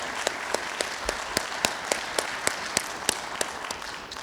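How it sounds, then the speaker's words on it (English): Audience applause for Premier Bank at an automotive industry event: evenly spaced, sharp claps stand out above a soft, continuous wash of clapping, fairly quiet and without speech. "could we give Premier Bank a round of applause?"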